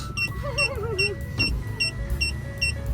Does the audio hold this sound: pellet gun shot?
no